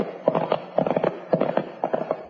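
Horses' hooves clip-clop in steady rhythmic bursts, two horses from a stable riding into a western frontier town in a 1949 radio drama, close and moderately loud with no talk over them.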